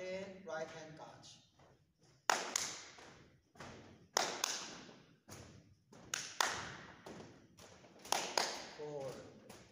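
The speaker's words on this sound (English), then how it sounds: "I need to clap, clap, then right hand catch" Hand claps and a tossed ball being caught during a kids' PE tossing and catching drill: sharp claps and soft thuds recur in short clusters every couple of seconds, with a voice talking in between.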